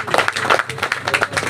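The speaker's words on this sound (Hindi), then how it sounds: "एक बार जोरदार तालियां।" A company team applauds together at an outing, dense, close, steady clapping from a group lasting a couple of seconds with no talk over it.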